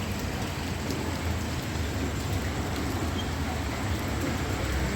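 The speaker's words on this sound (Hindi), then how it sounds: "जहाँ भी बारिश हो रही है और मैंने बारिश में शेल्टर ले रखा है" Steady rain pouring onto a street in Roorkee, a dense, even hiss of drops striking surfaces close by, continuous and unbroken throughout with no talking.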